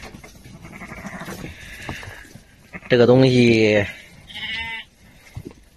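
Sheep bleat in a sheep pen, one loud, wavering bleat up close followed by a shorter, fainter one, with someone talking before and between them.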